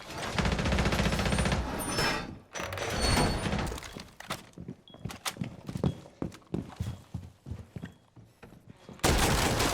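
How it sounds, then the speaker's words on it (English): Rapid shotgun fire in the video game Rainbow Six Siege, with loud, close, dense bursts at the start and end around a run of sharp, evenly spaced individual blasts and clatter in between. "The shotgun is so fast."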